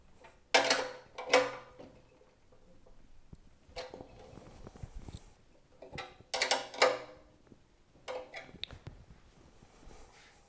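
Bolts being tightened on a Super Handy 3-inch mini wood chipper during assembly: bursts of ratcheting, clicking wrench strokes in several separated clusters, close and fairly loud, with quiet pauses between.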